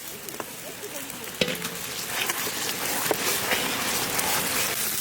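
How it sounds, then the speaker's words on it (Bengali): Ginger paste hits oil with fried onions, making a steady close sizzle with scattered crackles and a few sharp stirring knocks, fairly even in loudness throughout. "এখন দিয়ে দেবো আদা বাটা।"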